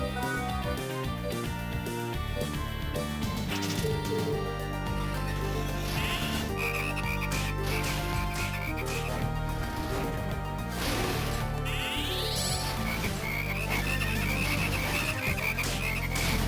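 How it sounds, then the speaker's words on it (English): A wave of frogs croaks in the video game Castlevania: Portrait of Ruin, repeated croaks layered under loud continuous game music and effects, no talk. "Big wave of frogs."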